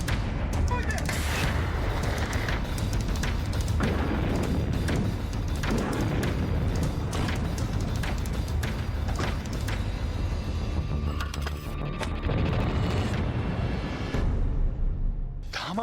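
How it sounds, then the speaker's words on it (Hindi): Loud, dense rumbling and booming from air strikes in the Ukraine war, explosions and crackling blasts rolling continuously, with a voice speaking over part of it. "धमाकों के बीच, हवाई हमलों के बीच"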